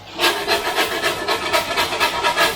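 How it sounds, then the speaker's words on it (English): Metal spatula scraping smashed beef burgers and their caramelised, charred bits off a hot griddle, a steady run of rough, rasping strokes repeating about every quarter second, close and fairly loud with no talking. "you just want to get your spatula and scrape"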